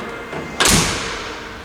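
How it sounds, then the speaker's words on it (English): A Jeep Gladiator pickup truck's rear door closes softly in one muted thud that fades quickly, close by and with no talking. "This has to be one of the softest close I've ever heard for a pickup truck rear door."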